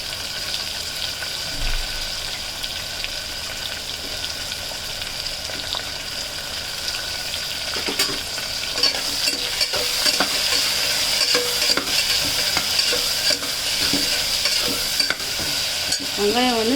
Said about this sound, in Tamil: வெங்காயம் வந்து நல்லா வதங்கணும்.